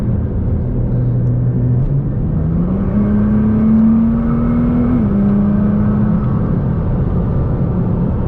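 A Nissan GT-R engine drones loudly from inside the car at night, its pitch climbing gradually as it accelerates, then dropping briefly with a gear change before holding steady.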